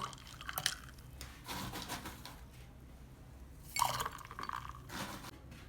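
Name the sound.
ice cubes added to a glass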